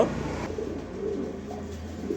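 A nervous pigeon offered for sale gives a soft, low coo up close, a short murmuring call over quiet background with no one talking.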